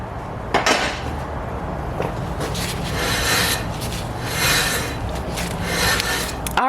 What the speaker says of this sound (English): now it's still making a little bit of rubbing sound